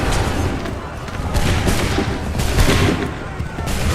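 Redcoat-era soldiers in Assassin's Creed 3 fire a musket volley, a dense crackling barrage of overlapping shots that rolls on loudly for several seconds with bursts peaking midway, shouted commands mixed in.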